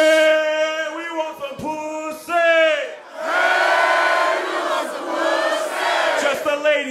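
A concert crowd in Boulder, Colorado shouts and cheers loudly in unison, with rhythmic chanted shouts rising into a sustained roar of cheering and whoops.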